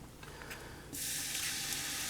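Water pours into a Cajun gumbo pot of stirred-in seasoning, a steady broadband rush that begins abruptly about a second in and continues loud and unbroken to the end.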